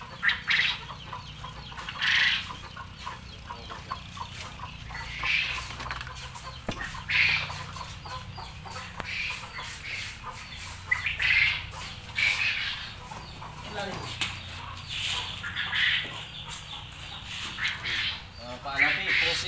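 Quail clucking and chirping on a quail farm run alongside maggot rearing and vegetables, bursts of bird calls repeating throughout under ongoing farm talk.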